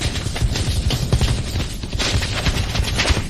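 Dense, rapid bursts of gunfire crackle continuously, loud and close, like a sustained exchange of shots with no speech.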